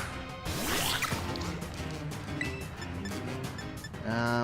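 A Water Pulse attack in Pokémon Scarlet produces splashy, dripping liquid effects and gurgling squishes layered over continuous game music, fairly loud and close.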